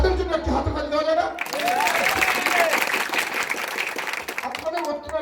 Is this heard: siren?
no